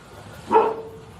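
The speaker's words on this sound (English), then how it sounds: "This is a small dog." A small dog lets out a single sharp bark, close and fairly loud, during a sheriff's office apartment search.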